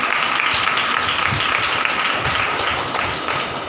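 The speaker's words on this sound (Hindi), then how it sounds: "ताली बजा के" Congregation at a Hindi Bible study clapping hands, a dense, steady wash of many claps, close and loud, tapering slightly toward the end.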